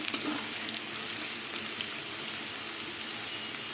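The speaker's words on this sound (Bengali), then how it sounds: "আলু ভাজতে ভাজতে আলু সেদ্ধ হয়ে গেছে আর একটু লাল লাল করে ভাজবো" Potatoes fry softly in a pan, giving a faint, steady crackling hiss throughout with no talk.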